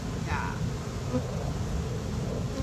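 A swarm of bees buzzes in a continuous, dense drone, with a faint voice underneath.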